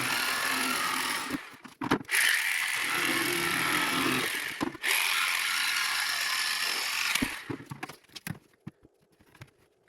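A ratchet driving screws to fasten two parts of a Honda TRX350 Foreman ATV's front fender, rapid continuous clicking in two long bursts with a short pause, close and loud, then trailing off into scattered faint clicks.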